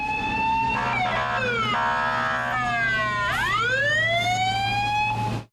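A fire engine arriving during a fire drill sounds its siren loud and close. The siren switches between wailing sweeps, rapid yelps and steady tones, over a low engine rumble, then cuts off abruptly at the end.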